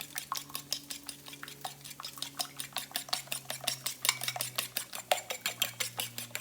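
A burrito filling mixture is whisked in a bowl with quick, steady metallic strokes that tick rhythmically throughout, close and clear, with a low hum underneath.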